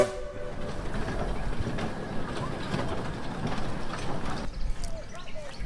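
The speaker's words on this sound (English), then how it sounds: "now what's running is the full-blown train" A full-size park train rumbles past with a dense, steady roar of wheels and carriages, loud and close, while muffled voices are heard under the noise.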